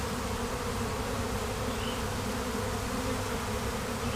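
A dense, continuous buzz of many honey bees swarming nearby in a bee yard, loud and unbroken throughout.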